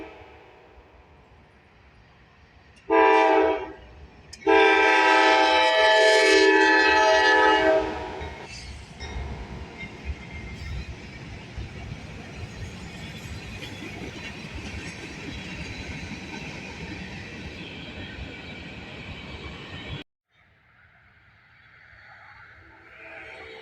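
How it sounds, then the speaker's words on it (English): A westbound manifest freight train powered by three GE locomotives sounds two loud horn blasts, then rumbles past with a long, steady roll of wagons before cutting off abruptly. "Next up was a westbound manifest train. This train had 3 GEs for power."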